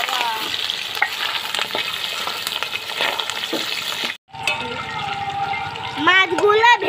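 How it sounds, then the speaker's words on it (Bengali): Pabda fish frying in oil, with a dense, loud sizzle and crackle close by that cuts out for a moment and then returns under a voice speaking. "মাছগুলো ভেজে নিচ্ছি।"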